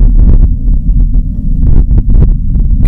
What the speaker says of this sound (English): And how does the wind sound on Mars?